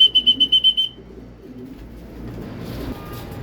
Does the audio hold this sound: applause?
no